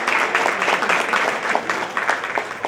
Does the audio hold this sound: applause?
yes